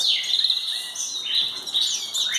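Belgian canary chirping in rapid, high trills and sweeping whistles, close and continuous, with short pauses between phrases and no voices.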